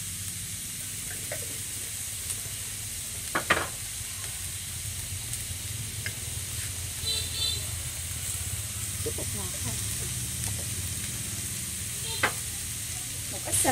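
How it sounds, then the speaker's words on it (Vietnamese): Vegetables stir-fry in a pan for a vegetarian dry-fried rice vermicelli dish, giving a steady sizzle and hiss with a few sharp utensil clinks, while a voice speaks over it. "mình phải xào rau củ cho nó chín mềm"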